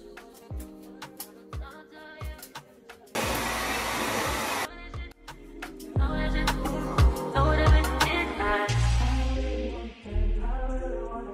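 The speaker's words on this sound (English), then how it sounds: "I think it's best if I just blow out my hair." A hair dryer blows out hair in a single loud, steady whoosh lasting over a second, with music playing before and after it.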